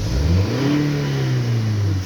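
Misfiring Toyota Avensis engine revving up and then falling back, a close, loud mid-pitched rise and fall of engine tone lasting about two seconds.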